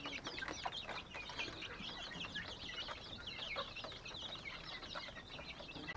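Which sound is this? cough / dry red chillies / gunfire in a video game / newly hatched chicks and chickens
newly hatched chicks and chickens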